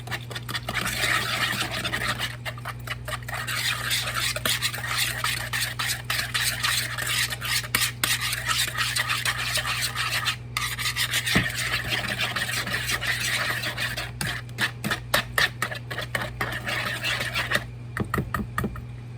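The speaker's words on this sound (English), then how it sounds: "Now let's whisk that together." Butterscotch cake batter whisked in a bowl, rapid rhythmic clicking and scraping strokes that run continuously with short pauses, close and fairly loud, no voices.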